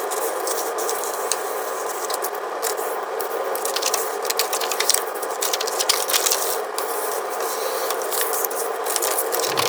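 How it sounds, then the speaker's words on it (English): Paper cones for a Mexican paper star being creased along dotted lines, a continuous close rustling and scraping with crisp crackles throughout, played alone without talk. "First, fold along each of the dotted lines."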